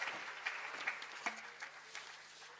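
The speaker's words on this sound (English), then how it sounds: "Let's give a big round of applause for Speaker, really." Applause for the Speaker rises in the Mpumalanga Legislature chamber after a budget speech, a quiet, scattered clapping of a modest crowd with a few louder claps and a faint hum beneath.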